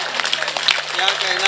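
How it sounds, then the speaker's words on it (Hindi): An audience at an All India Mushaira and Kavi Sammelan in Chandauli gives a short burst of scattered clapping under someone speaking loudly over it. "एक बार सारे लोग मिलकर तालियां बजा के बताएं मुझे।"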